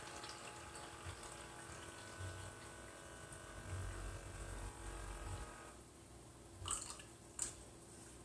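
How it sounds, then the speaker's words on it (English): Water flushing through a Fizzics Waytap beer dispenser during a 10-ounce pour: a faint, steady hiss and trickle with low pump rumble, then two short splashy bursts near the end, no talk. "you just go through the whole 10-ounce pour with water"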